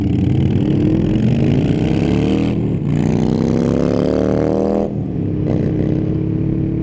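A small, slow motorbike engine revs up and accelerates hard, its pitch climbing through two gear shifts, loud and close throughout.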